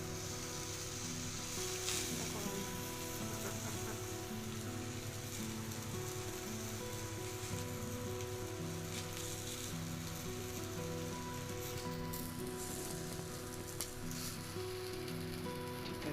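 Pieces of tuna fish roast on a tawa in a little oil, making a faint, continuous crackling sizzle with a soft tonal background.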